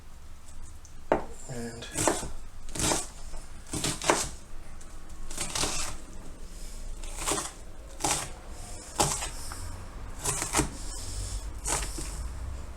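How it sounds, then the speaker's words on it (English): A knife rapidly dices an onion on a chopping board, with a quick run of sharp, even taps up close and a brief spoken word near the start. "beautifully diced onion in seconds"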